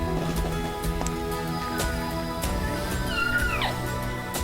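Newborn puppy from a high-risk birth crying in thin, high kitten-like mews, several rising and falling squeaks over a steady background hum, close by.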